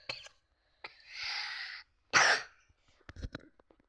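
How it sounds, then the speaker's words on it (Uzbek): A person coughs: a long, rough, breathy hack followed by a sharper, louder cough, then a few small throaty sounds, close and clear against quiet. "uzun yo'talyapman"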